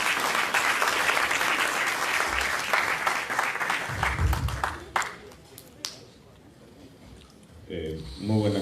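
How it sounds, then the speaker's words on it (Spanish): An audience at a union event in the Peruvian Congress applauding a congressman, loud dense clapping for about five seconds that then trails off into scattered claps and room noise. "Le damos la palabra y lo recibimos con un fuerte aplauso"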